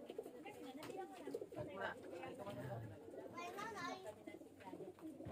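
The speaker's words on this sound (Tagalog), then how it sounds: "Yan, yung mga ibon mga kabi." Racing pigeons coo softly in crates on loading day for an invitational race in San Francisco, Southern Leyte, their low throaty calls heard close under someone talking.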